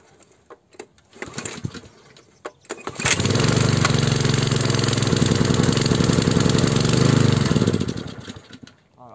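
Garden tiller engine pull-started with the choke set and a little throttle: several quick starter pulls, then the motor catches and runs steadily at a close, loud idle for several seconds before fading down.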